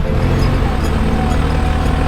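A tractor engine runs steadily, a loud, close, low rumbling drone with a continuous throb and no pauses.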